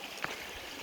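A small river flows steadily with a soft, continuous rushing hiss, no voices present.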